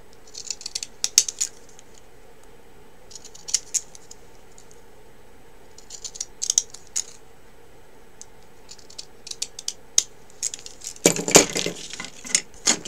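Fancy-edge craft scissors snip paper for a handmade book card, giving bursts of short crisp clicking cuts in several separated groups, with a denser rustling flurry near the end, close and fairly quiet.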